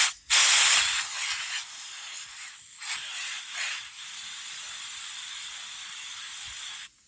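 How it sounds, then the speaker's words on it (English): A compressed air wand blasts into a car's sunroof drain hole with a loud, steady hissing rush that starts abruptly, sputters and dips briefly, then holds continuously before cutting off near the end. "we're simply gonna take our compressed air wand here, shoot it down that hole"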